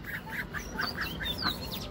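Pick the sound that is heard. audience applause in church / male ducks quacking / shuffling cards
male ducks quacking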